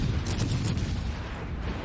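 Heavy naval gunfire from a warship in World of Warships Legends, a dense low rumbling boom sustained throughout, loud and continuous with no distinct separate shots.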